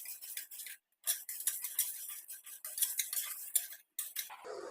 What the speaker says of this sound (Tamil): கடலைப்பருப்பு கொஞ்சம் போட்டு ஒரு 10-20 செகண்ட்ஸ்லேயே இந்த மிளகையும் கூட ஆட் பண்ணிக்கலாம்